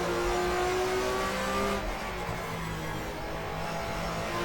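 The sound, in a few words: touring car engine at Nurburgring in GTR2 video game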